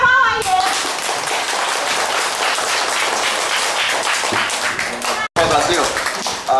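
A crowd at a community elder-care centre visit in Chiayi, Taiwan, applauds to welcome the elders, gathered under shelter on a rainy day. The clapping is dense, loud and sustained, with a very brief break near the end before it resumes.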